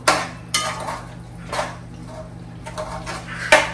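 A spoon scrapes and knocks against a pot while a beaten mixture is stirred into vegetables for masoor lentil dum biryani, with several clattering metallic strikes over a low steady background hum.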